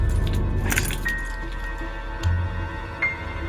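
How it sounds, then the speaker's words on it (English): Car keys jingle and clink in a brief metallic burst as they are handed over, close and fairly loud against a low background hum, with a softer jangle following a little later. "Why don't you give me your car keys?"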